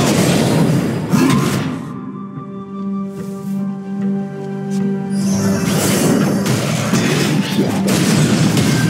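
A turret is destroyed in the mobile MOBA Wild Rift with a loud booming crash. A sustained sustained tonal ring follows before more clattering game effects return, loud and close throughout.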